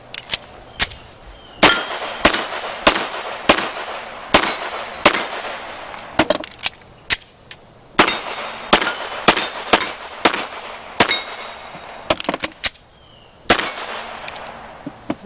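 Rapid gunshots ring out across a competitive shooting stage, sharp loud cracks in quick strings and pairs with short pauses between, some with metallic clangs of steel targets, continuing steadily throughout with no talking.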